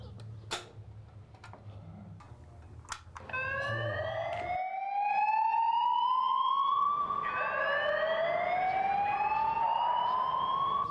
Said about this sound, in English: It doesn't pay to wait for a real fire to know if the alarms work, and systems must be tested weekly.